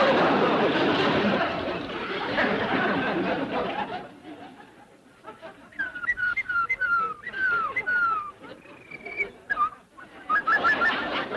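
After a stretch of murmuring voices, someone whistles a run of short, bird-like trilling notes in bursts, fairly close and clear.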